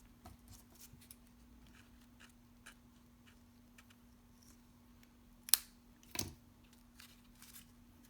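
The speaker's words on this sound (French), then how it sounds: "donc il faudra juste que je coupe un petit bout." Scissors snip a small piece off the end of a material, making a couple of sharp, close cuts around the middle of otherwise quiet, faintly ticking surroundings.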